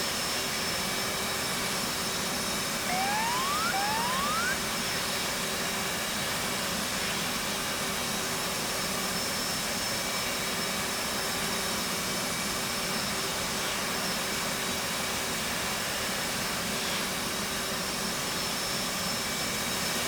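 Steady jet engine roar from an aircraft in the DCS flight simulator game, a loud continuous broadband whoosh with a high whine held at an even level throughout, no talk.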